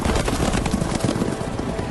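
Steady clip-clop of horse hooves at a trotting rhythm in the video game The Witcher 3: Wild Hunt, close and fairly loud, with a faint murmur of background ambience.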